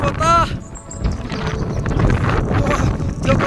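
Strong wind in cold mountain country near Tawang, Arunachal Pradesh, buffets a phone microphone with a constant low roaring rumble, and a voice is heard briefly near the start.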